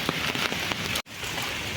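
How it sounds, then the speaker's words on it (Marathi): Heavy rain drums steadily on surfaces at Guhagar on the Konkan coast, a thick close hiss that cuts out for a split second before resuming. "जोरातला पाऊस पडतो आहे"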